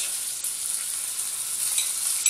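Beef kebab meat fries in cooking oil in a pan on a stovetop. A steady, close, bright sizzle runs without a break, with a few small pops and crackles.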